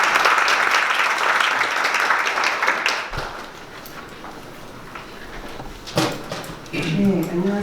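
An audience at a Korean policy forum on K-fashion globalization applauds a speaker, with loud clapping that fades midway and brief voices and thumps afterward.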